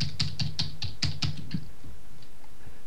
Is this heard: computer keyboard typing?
yes